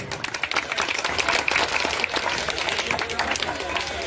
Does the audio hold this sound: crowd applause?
yes